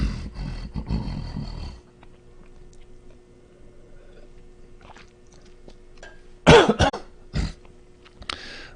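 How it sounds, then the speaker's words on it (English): A man coughs several times during a guided meditation session, with a harsh burst at the start and sharper, louder coughs near the end, separated by a long quiet stretch. "I'm going to cough more times"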